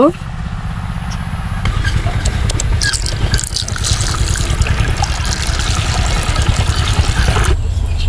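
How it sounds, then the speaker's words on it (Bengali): Water runs steadily from a tap while freshly cut baim (spiny eel) fish are rinsed in a kitchen, a continuous trickle and splash with light clatter throughout. "মাছ কোটা শেষ এখন মাছগুলো ধুয়ে নিব"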